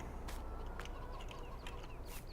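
Chickens clucking at a chicken coop in Farming Simulator 19, quiet, scattered, overlapping clucks over a low steady background hum, with no talking.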